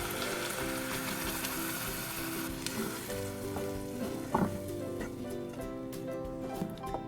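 Ground onion and garlic paste with asafoetida, turmeric and red chili powder sizzles steadily in oil for a Malvani dried prawn curry, a dense continuous crackle under background music with a brief clatter near the middle.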